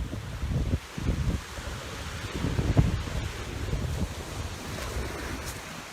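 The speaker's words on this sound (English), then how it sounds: "it is a gale force wind up" Gale force wind roars along the Valencia coast in Spain, buffeting the microphone with a constant heavy rumble and gusty surges, and surf is audible beneath it.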